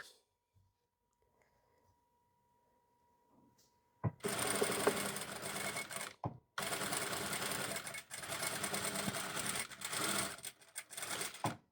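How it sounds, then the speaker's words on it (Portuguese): A sewing machine joins the side seams of a muslin dress bodice with a one-centimetre allowance, starting after a near-silent pause, then running in loud close bursts of rapid stitching separated by brief stops. "Vamos então agora unir as laterais do nosso busto com 1 centímetro de costura."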